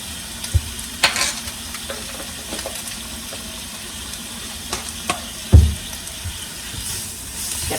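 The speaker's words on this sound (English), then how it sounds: "I'm going to put in some pink Himalayan and saute that for about a minute more" Turkey sautés with pink Himalayan salt in a pan, giving a steady close sizzle and hiss. Scattered stirring scrapes and clunks of the utensil punctuate it, one heavy knock standing out near the end.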